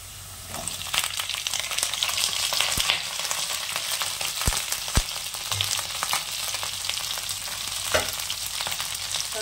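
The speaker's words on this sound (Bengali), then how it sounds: "বিমসটাও হালকা একটু ভেজে নেব, যেহেতু সেদ্ধ করা আছে।" Boiled beans frying lightly in a pan with potatoes make a steady, close sizzle throughout, with a few sharp clicks and scrapes from stirring.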